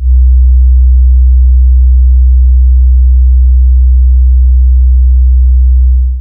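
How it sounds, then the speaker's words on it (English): A pure low 63 hertz sine tone drones steadily for about six seconds, loud and constant, with clean onset and end. "Next, let's listen to 63 hertz."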